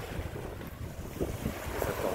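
Sea waves wash onto a beach at Man Kok Tsui on Lantau Island, a steady rushing surf mixed with wind buffeting the microphone.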